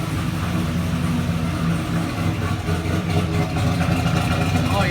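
Engine of a turbocharged work truck runs steadily at idle, a continuous low rumble close by with no clear revving.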